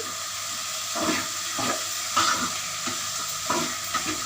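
Cauliflower sizzles steadily in a hot pan without water while a spatula stirs and scrapes in short, regular strokes every second or so.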